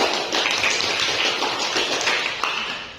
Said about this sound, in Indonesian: kasih aplaus untuk Asrian